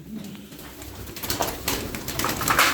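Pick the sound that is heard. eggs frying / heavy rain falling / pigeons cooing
pigeons cooing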